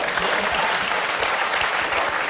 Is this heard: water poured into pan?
no